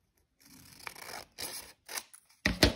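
Scissors snip through a paper rectangle in a few quick, close bursts of crisp cutting, separated by brief pauses, with the last cut loudest.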